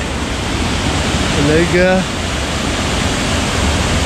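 Steady broadband roar of a waterfall heard from its base, loud and continuous throughout, with a man's brief spoken phrase partway in.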